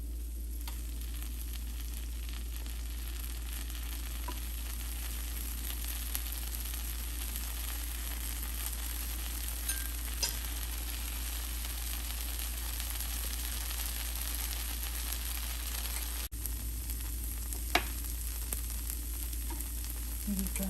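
Tomato dosa batter cooks in oil on a hot pan, giving a steady, even sizzle throughout with no one talking.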